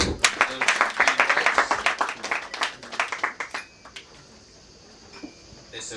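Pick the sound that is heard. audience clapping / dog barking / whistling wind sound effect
audience clapping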